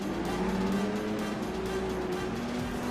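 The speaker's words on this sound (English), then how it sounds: "Pace car pulls away and the cars begin to roll." IndyCar race cars in the iRacing game at Auto Club roll off behind the pace car, a steady, loud engine drone with two sustained tones slowly shifting in pitch, no voices over it.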